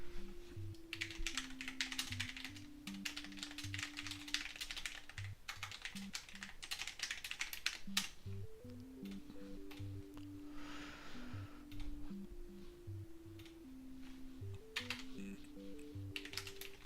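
Rapid typing on a computer keyboard while writing a book, a dense run of quick, close clicks in uneven bursts with brief pauses, under a quiet looping background melody and with no speech.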